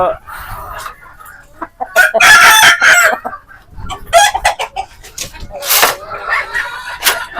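Pure desi chickens cluck busily at close range while a rooster crows loudly among them, with some talking mixed in.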